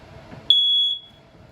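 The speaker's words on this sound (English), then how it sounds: "For your smoke detector, it's just right here." A smoke detector in a 2021 Wildwood 273QBXL travel trailer gives a single sharp, shrill beep lasting about half a second, close and loud in an otherwise quiet interior.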